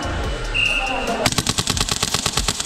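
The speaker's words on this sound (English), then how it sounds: "Don't shoot me, Andrew" Airsoft gun shots during a competition rifle practice game come as a rapid burst of sharp repeated cracks in the second half, after quieter background sounds.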